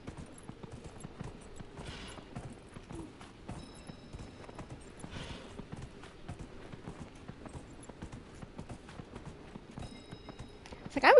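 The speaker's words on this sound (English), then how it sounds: "I always forget how to run on the damn horse" A horse's hooves clip-clop at a brisk, rhythmic gallop in a video game, steady and moderately quiet, with a few faint chimes over the beat.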